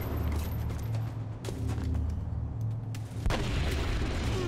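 A weapon shot in XCOM Long War on Impossible Ironman difficulty, with steady loud game rumble throughout and a sharper burst near the end.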